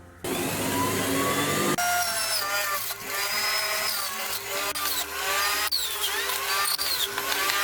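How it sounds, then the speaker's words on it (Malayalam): Electric juicer running with cucumber and ginger fed in, a loud steady motor whine with shifting grinding tones as pieces are pushed through, close and continuous without speech. "ജ്യൂസർ ഓൺ ചെയ്ത ശേഷം നമുക്ക് ഈ എടുത്തു വെച്ചിരിക്കുന്ന കുക്കുംബർ ഇതിലേക്ക് ഇട്ടിട്ട് ജ്യൂസ് അടിക്കാം"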